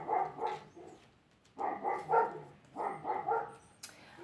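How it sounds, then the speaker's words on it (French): Several dogs bark in three bursts of repeated woofs, fairly close and loud, with short quiet gaps between the bursts and no talking over them. "Désolée pour les chiens qui aboient."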